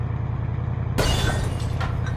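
A vehicle crashing in the video game Kerbal Space Program, a sudden loud shattering impact cutting in over a steady engine drone, followed by scattered breaking debris.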